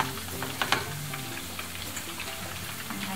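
Chicken fillet pieces in batter sizzle steadily in a hot frying pan, a dense continuous crackle with a few sharper pops, no voices.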